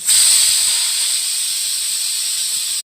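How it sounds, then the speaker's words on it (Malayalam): A pressure cooker holding pav bhaji vegetables vents steam in one loud, steady, high hiss lasting nearly three seconds before cutting off abruptly. "വെച്ചിട്ട് കുക്കറിൽ 2 വിസിൽ വരുന്നവരെ വേവിച്ചെടുക്കുക."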